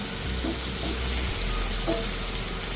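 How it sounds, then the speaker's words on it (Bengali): Onion with ginger-garlic paste frying in a pan for a Bengali doi chicken, a dense continuous sizzle with faint scraping of stirring throughout, no voices. "গোল্ডেন ফ্রাই হওয়া পর্যন্ত আমি এইভাবে নেড়ে চেড়ে ভেজে নেব।"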